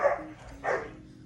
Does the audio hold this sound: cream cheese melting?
no